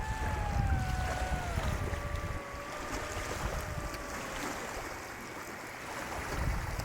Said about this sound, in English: It is quite windy as well